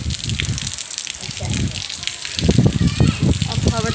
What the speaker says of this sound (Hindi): अब हवा चल रही, हवा के साथ आंधी का उड़ गया, बारिश वारिश हल्की हल्की हो रही